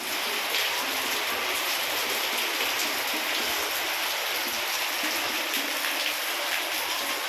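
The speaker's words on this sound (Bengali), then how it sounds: "বাইরে পুরো জোরে বৃষ্টি নেমে গেছে" Heavy monsoon rain pours down outside in a dense, steady hiss that stays constant throughout, with no voices.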